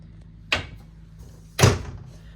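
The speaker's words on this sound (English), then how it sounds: "Pocket door to the bathroom." Two quick sliding thuds from a bathroom pocket door in a 2014 Lakota three-horse living-quarters trailer, one at about half a second and a louder one a second later, in a quiet interior.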